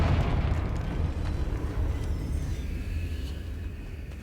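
The Confringo blasting spell erupts in a Hogwarts video game as a deep, rumbling explosion that is loud at first and then slowly decays across about four seconds.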